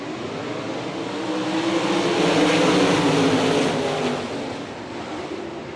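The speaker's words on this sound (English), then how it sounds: "Soderman jumps on the throttle with the green flag wave" World of Outlaws sprint cars accelerate hard at the start of a heat race on a dirt oval in Hartford, Ohio, with a loud, dense engine roar that swells to a peak and then eases slightly as the field pulls away.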